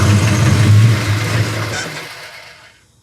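The engine of a 1972 Plymouth Road Runner runs close to the microphone, loud with a low rumbling exhaust note, then dies away and fades into quiet.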